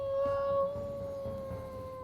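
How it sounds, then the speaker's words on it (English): A long, steady coyote howl from an animated cartoon, a sustained high wavering tone held throughout at moderate level over a low background rumble. "Yeah, I heard a coyote."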